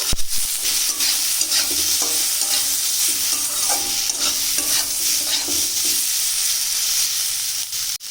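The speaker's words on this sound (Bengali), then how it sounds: "এবার একটু ভাজা ভাজা করে নেবো।" Taro stolons and taro greens with prawns, salt and turmeric fry in a pan, a loud, continuous sizzle broken by repeated scraping stirs of a spatula, with no talking.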